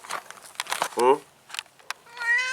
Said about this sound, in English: Black cat laying in the sunshine.